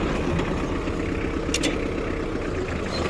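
A used Kubota GT-3 Japanese four-cylinder mini tractor with power steering driving along, its engine a steady low drone heard close and continuous, with a brief clatter partway through.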